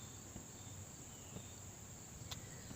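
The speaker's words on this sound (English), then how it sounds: "bugs." Crickets and other insects chirp in a continuous high trill, with a few faint clicks over a quiet night-time background and no voices.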